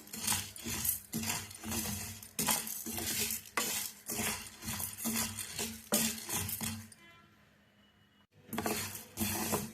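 Black urad dal dry-roasting in a pan, stirred with repeated scraping and rattling strokes, a brief quiet pause near the end before stirring resumes; close and fairly loud.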